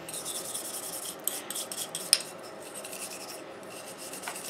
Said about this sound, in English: I'm going to take a brush and just kind of scrape